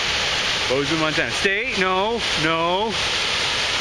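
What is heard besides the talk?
waterfall at Grotto Falls on Hyalite Creek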